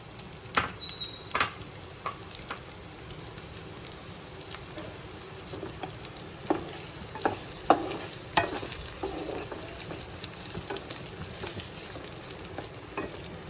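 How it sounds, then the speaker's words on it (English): Onions and chopped garlic sauteing in a tablespoon of hot oil, a steady close sizzle with scattered pops and crackles and a few stirring scrapes, with no talking. "Now we'll saute onions."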